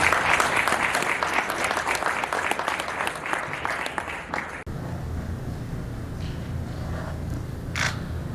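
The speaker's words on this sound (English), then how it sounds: "Can we clap for them?" An audience applauds after an MOU signing at a US–Uganda international trade summit, dense clapping for about four and a half seconds that stops abruptly, followed by quiet room tone with faint rustles.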